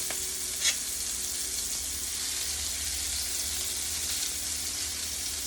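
Chicken dumplings frying in a skillet, giving a steady, even sizzle that carries on close and unbroken throughout, with no voices.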